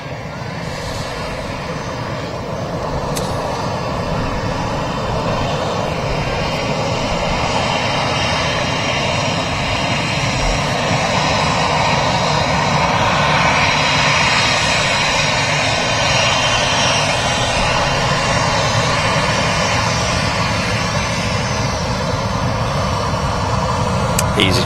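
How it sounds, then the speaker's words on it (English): An easyJet airliner arrives at Manchester Airport, a loud, continuous jet engine roar that builds gradually and holds steady for a long stretch, with broad rushing noise and a low hum. "EasyJets just arriving here"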